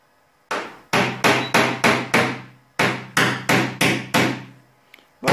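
Repeated metal hammer taps knocking down a high spot in a car body panel during paintless dent repair on a German car, about ten sharp, close, evenly spaced blows in two bursts with brief ringing decay.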